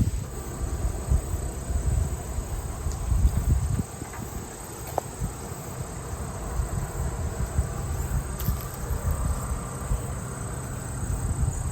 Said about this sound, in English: Plenty of bees on this one.